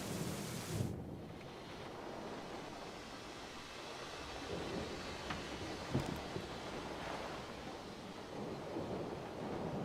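A thunderstorm rages in the video game Syberia: The World Before, with a dense steady roar of rain and wind and a few low rumbles of thunder, and no voices.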